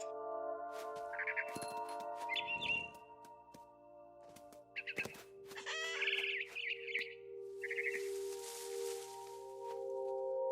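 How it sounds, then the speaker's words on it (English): Bright chirps and tweets of a barn swallow in What Remains of Edith Finch, scattered irregular calls over a steady electronic hum, with a burst of rustling noise near the end. "Then I heard chirping outside my window. It was a barn swallow going back to her nest."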